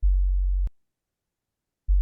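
A low, steady FM synthesizer tone from Ableton Operator, with operator A modulating carrier C, sounds alone: a bass-heavy sustained note that cuts off abruptly, then about a second of silence before the tone returns.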